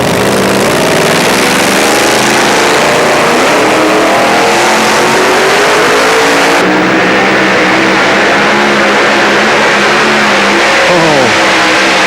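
A drag racing motorcycle on a full pull, its engine roaring loud and continuous, climbing through rising revs with gear changes before easing off near the end.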